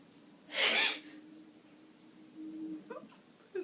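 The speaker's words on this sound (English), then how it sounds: "That was a sneeze." A single sharp sneeze bursts out close to the microphone, loud and breathy, followed by quiet room tone and a few faint sniffs or breaths.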